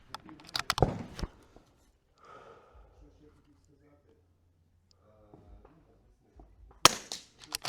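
Rifle gunshots at precision rifle shooting practice: sharp, loud cracks in two quick clusters, one early and one at the end, with people talking quietly between them.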